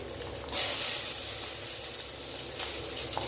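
Mustard seeds, onion and garlic hit hot oil with a sudden loud hiss that settles into a steady, close sizzle lasting a few seconds.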